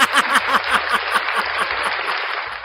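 Applause sound effect played during a live stream, a rapid patter of claps at steady loudness for a few seconds, with no talking over it.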